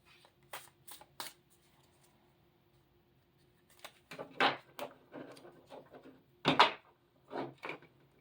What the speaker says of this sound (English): Let's give it a good shuffle so we can move the energy around.